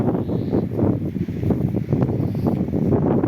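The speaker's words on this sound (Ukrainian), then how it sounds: "Вітер на вулиці. Я вибачаюся, якщо може звук буде." Strong wind buffets the microphone in rumbling gusts outdoors among fields near abandoned villages, a loud, low roar that swells and dips continuously.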